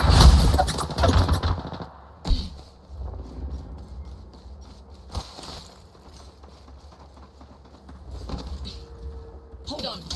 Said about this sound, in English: Enemies firing.